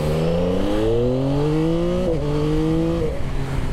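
A Yamaha XSR 900 with its three-cylinder CP3 engine accelerates hard on the road, the loud close engine note rising through gears with two quick shifts, no voices.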